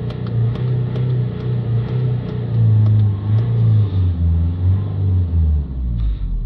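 Car engine being revved while exhaust temperature is monitored, a low rumbling drone that rises and falls in pitch through several rev swells, close and fairly loud.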